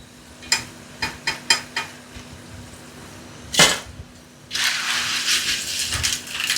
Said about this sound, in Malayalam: ഇത്രയും നേരവും ആ ഫുൾ ഫ്ലെയിമിൽ തന്നെയാണ് ഞാൻ വറുത്തുകൊണ്ടിരുന്നത്